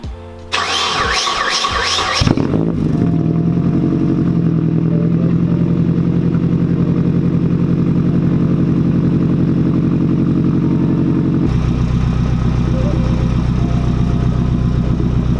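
A 1998 Nissan 240SX fitted with a Tomei titanium cat-back exhaust cranks and fires up, then settles into a loud, steady, throaty idle with a slight rise in tone near the end.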